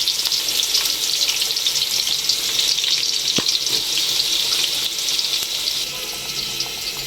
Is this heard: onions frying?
yes